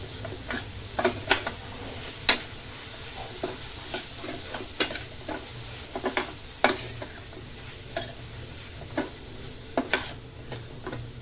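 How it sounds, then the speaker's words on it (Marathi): A spoon scrapes and taps against a pan while grated ridge gourd chutney is mixed with salt, giving irregular clinks and scrapes over a low sizzle, with no voices. "आता हे सर्व मिक्स करून घेऊया"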